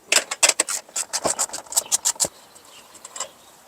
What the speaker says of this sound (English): Ratchet and socket.